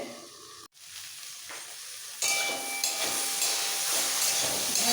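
Okra sizzles steadily in a partly covered kadai, with broadband frying hiss that jumps louder after a brief dropout and keeps crackling close and continuous with no voices.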